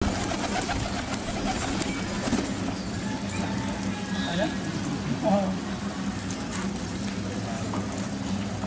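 Pigeons coo softly amid a noisy outdoor scene, with people talking nearby and steady background rumble.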